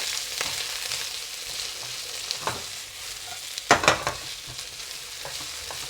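Halved spring onion stalks stir-fry in hot oil, giving a steady close sizzle broken by a few sharp scrapes and clatters of the spatula moving them around.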